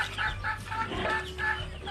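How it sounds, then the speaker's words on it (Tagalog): Farm chickens cluck in short repeated bursts, several soft calls close by over a low background hum, with ducks kept nearby. "yung ating mga alaga rito, mga manok tsaka pato"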